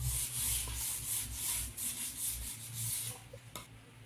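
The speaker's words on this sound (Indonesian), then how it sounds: "Kita amplas dengan amplas yang kasar saja." Coarse sandpaper rubbing along the cut edges of a hardcase panel for a 12-channel mixer, in close, quiet, rhythmic back-and-forth strokes with a soft hissing scrape, no talking.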